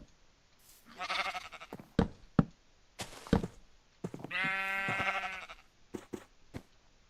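Minecraft sheep bleat in a few drawn-out, wavering calls inside the video game, separated by sharp, hollow knocking taps from block placing, fairly close and with no one talking.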